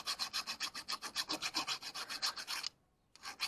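A metal hand file rasping on a Fiat Uno Mille Fire car battery terminal, close and loud in steady rhythmic back-and-forth strokes, then a short pause before filing resumes.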